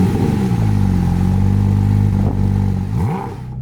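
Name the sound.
Porsche GT4 RS engine starting with a key twist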